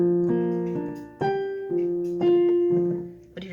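Piano playing the opening chords of a song without the sustain pedal, so each chord stops short and separate; about six chord changes in a steady, moderately loud run with no voices.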